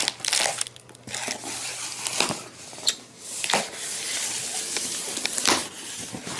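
A dented cardboard box holding a cheap black Les Paul-style electric guitar is torn open, with steady close crinkling and rustling of packaging and a few sharp rips.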